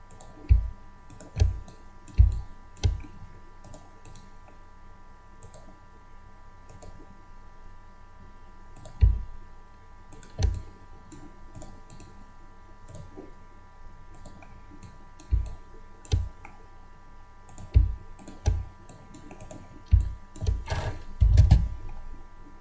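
Sharp computer mouse clicks sound close and distinct, single and paired, spaced irregularly over a steady electronic hum, with no talking.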